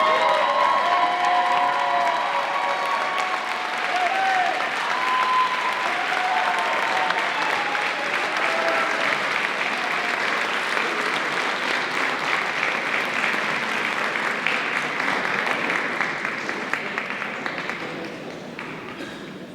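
Sustained audience applause at a Class of 2024 graduation event, a dense crowd clapping steadily with some cheering for nearly twenty seconds before slowly fading at the end.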